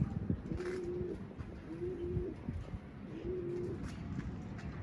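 Domestic pigeons coo in repeated low, drawn-out phrases about every second while flying out from a loft, the calls clear and near over a steady outdoor background.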